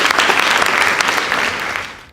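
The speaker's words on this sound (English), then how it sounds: "Please give them a round of applause." A crowd at a high school debate competition breaks into a brief, dense burst of applause that tapers off at the end.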